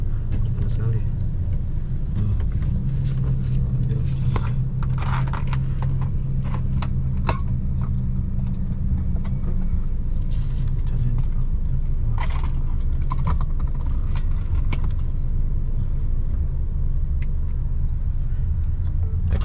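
Car traffic on a city street in Batam Center, Batam, forms a continuous low rumble with occasional passing vehicles, and people talk over it nearby.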